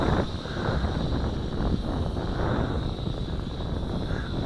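RC Leading RC109F large FPV drone flying upwind in strong wind, a steady motor drone with a high whine buried under heavy, continuous wind rush on the microphone.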